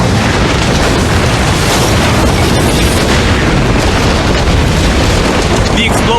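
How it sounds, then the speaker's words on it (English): A munitions bunker holding gunpowder, grenades and artillery shells blows up at a Brazilian Navy ammunition depot on an island off Rio de Janeiro, a massive sustained roaring blast rumble that stays loud and saturated throughout. "The explosion comes from a bunker housing 3 tons of munitions, including gunpowder, grenades, and artillery shells."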